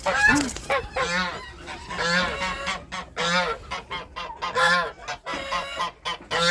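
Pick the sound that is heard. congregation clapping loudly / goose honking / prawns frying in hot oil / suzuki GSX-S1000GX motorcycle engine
goose honking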